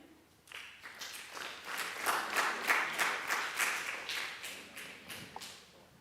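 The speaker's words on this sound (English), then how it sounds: "As they are coming, we can put another round of applause for them." The audience at a health summit in a university hall applauds a team, starting from quiet, swelling into rhythmic, pulsing claps and then easing slightly toward the end.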